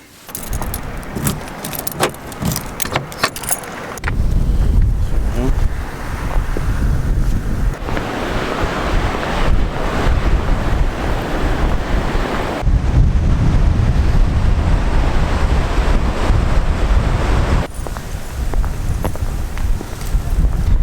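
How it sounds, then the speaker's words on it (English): Steady wind gusts buffet the microphone by the sea near a lighthouse, a loud continuous roar with surging bursts and no talking, after a short stretch of lighter clatter at the start. "It's a bit windy, I'll take that."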